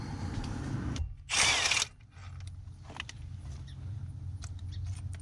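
A ratchet fitted with a 12mm socket works bolts loose on a Kia Optima's steering coupler, giving a sharp, loud burst of clicking partway through, with quieter mechanical rattles and low rumbling around it and no talk.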